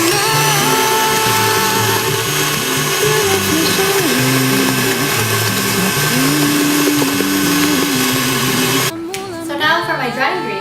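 An electric mixer whips macaron meringue as vanilla is added, giving a steady, loud whirring drone that shifts in tone near the end.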